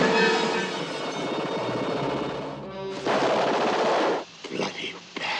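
A gunshot in a Planet of the Apes film scene lands as a sudden loud crack partway through a dense, noisy passage of film sound, followed by a brief tail and scattered quieter impacts. Voices may be mixed in.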